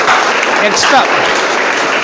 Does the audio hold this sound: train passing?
no